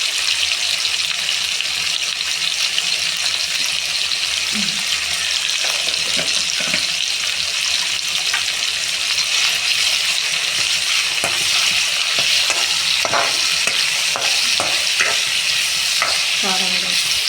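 Mutton pieces sizzle loudly and continuously in a pan while being stirred, a close, constant frying hiss broken by intermittent scraping and clattering strokes of the spatula, with no one talking.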